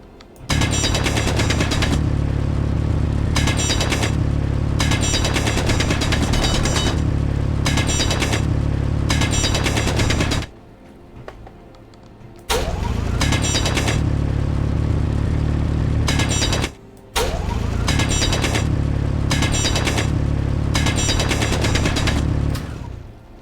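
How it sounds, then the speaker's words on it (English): Drilling through a block in Space Engineers, a loud steady grinding drone running in long stretches, cutting out briefly twice before starting up again, with no talk over it. "I'm going to wind up coming through here having to drill this out"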